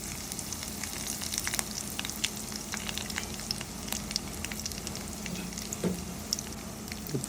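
Mustard seeds, chana dal and dried chillies fry in hot oil with a constant crackling sizzle dotted with small pops and light stirring, close and even throughout, with no speech.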